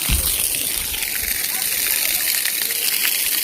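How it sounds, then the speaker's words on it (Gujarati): Water runs down from pools higher up a hill into a rocky channel, a steady, close rush with splashing that continues without a break. "ઉપરના બધા જે કુંડ છે ને એમાંથી આટલું પાણી આવે છે"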